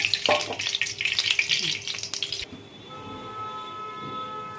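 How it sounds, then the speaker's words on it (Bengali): Soybean kofta balls fry in hot white cooking oil with a loud, crackling sizzle that bubbles steadily for a couple of seconds, then drops to a quieter background hiss. "ভাজার জন্য আমি সাদা তেল দিলাম।"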